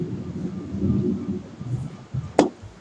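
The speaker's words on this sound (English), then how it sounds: "Thunder rumbles ominously in the distance." Distant thunder rumbles low and steady for a couple of seconds, ending in a sharp crack-like bang, as a storm sound effect in a dungeon-crawl tabletop game.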